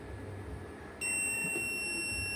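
A 5000 W 24 V hybrid solar inverter beeps, a steady high electronic tone that starts midway and holds loud and near over a low room hum.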